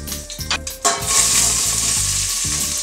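Onions and carrots fry in a pan for sausage and kale soup, a few stirring clatters at the start giving way to a steady, close, loud sizzle with no talking.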